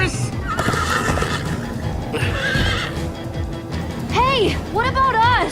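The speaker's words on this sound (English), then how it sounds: "Slow down, horse!" Minecraft: Story Mode horses neigh in loud, wavering calls, two prominent whinnies in the last seconds, over galloping hooves and game background noise with some voice activity.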